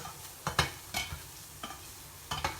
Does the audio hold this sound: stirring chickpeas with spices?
yes